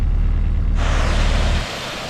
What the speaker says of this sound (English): Another cascade.